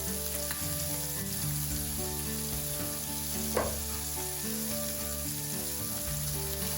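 Steaks sizzling steadily in a hot pan just after being flipped, a dense continuous frying hiss with one brief sharper clatter midway, close and fairly loud with no talking.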